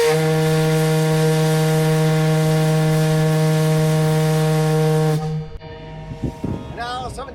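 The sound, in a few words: fog whistle blowing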